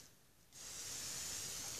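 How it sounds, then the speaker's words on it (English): A spray bottle mists water onto wet felt for a steampunk boot. After half a second of quiet comes a single sustained, close, airy hiss that lasts to the end. "Spray it down."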